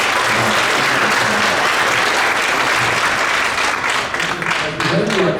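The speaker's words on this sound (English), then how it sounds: "So one more round of applause for everybody that sold." Audience at a seventh grade school winter concert claps in a sustained, dense round of applause that fills the room, fading slightly near the end as a voice begins.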